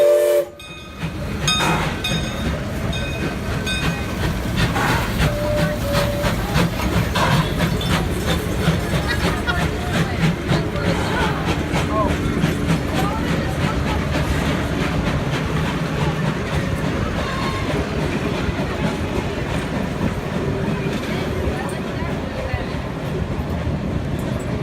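Buckley Railroad 0-4-0T steam locomotive number 7, built by Baldwin, runs at an old engine show with steady chuffing and hiss, loud and sustained, with a whistle-like tone early on.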